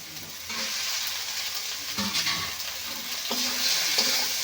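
Fried okra tossed into sizzling spice masala with prawns in a pan, a steady loud sizzle with scraping stirring strokes and occasional clinks, close up and with no talking.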